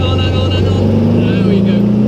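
Classic rear-engined car, a Porsche 356 or modified VW Type 1 Beetle, droning loudly up close as it drives into a corner in second gear, with a steady engine hum and a rising tone near the end.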